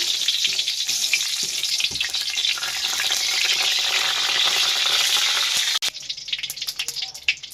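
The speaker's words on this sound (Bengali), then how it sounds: "তেলটা গরম হয়ে গিয়েছে দিয়ে দিচ্ছি তেজপাতা শুকনো লঙ্কা" Bay leaves and dried red chillies hit hot mustard oil in a kadai, bursting into a loud, dense sizzle that holds steady, cuts off sharply, then returns as scattered crackles and spits.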